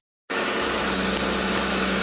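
A 2017 Jeep Wrangler engine idles steadily close by after starting up, a continuous low, even rumble that holds unchanged to the end with no talking over it.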